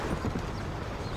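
Hooves of a galloping horse in the video game Red Dead Redemption, a brief, dense, continuous thudding that stays steady and close.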